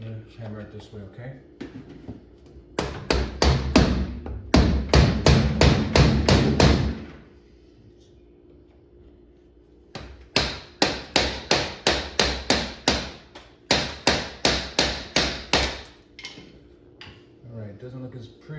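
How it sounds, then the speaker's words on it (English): Repeated sharp hammer blows on a rivet at the foot of an Xtend+Climb ladder, struck in two fast rhythmic runs separated by a short pause, close and loud. "I'm gonna hammer it this way"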